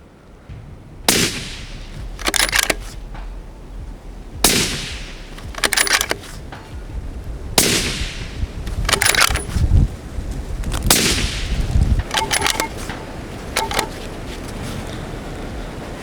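Rifle shots fired from the prone position, loud sharp cracks, some single and some in quick pairs, spaced a few seconds apart, each followed by a short ringing tail, with no talking.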